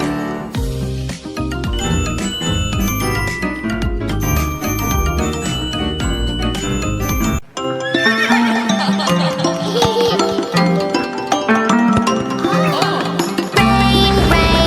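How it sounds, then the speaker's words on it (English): A horse neigh plays as a sound effect within a bouncy children's nursery rhyme song. Bright bell jingles and full musical backing carry on throughout, loud and continuous. "Neigh, neigh, the horses say."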